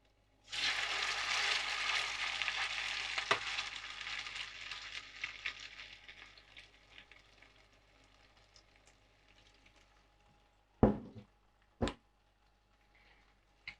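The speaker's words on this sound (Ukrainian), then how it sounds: "смажиться воно доволі швидко" Steady close sizzling of potato pancakes with chicken and cheese frying in a pan, strongest at first and slowly fading, followed by a couple of sharp knocks near the end.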